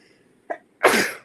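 A single close sneeze, a short intake followed by a sharp, breathy burst, loud against near silence.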